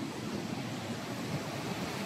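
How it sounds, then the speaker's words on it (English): Ocean waves crash against a rocky coast, a steady broadband roar with low rumbling surges that stays continuous and fairly loud throughout, with no voices. "You should be able to hear a lot of noise with those waves crashing against the coast here."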